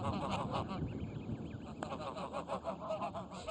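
Geese herded along with livestock in the Garmiyan countryside honk repeatedly in a quiet, distant flock, a stream of nasal calls with faint background noise.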